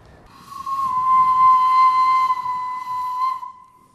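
A steam train sounds a long, steady, loud steam whistle lasting about three seconds, with a faint hiss beneath it before it cuts off, and no talking.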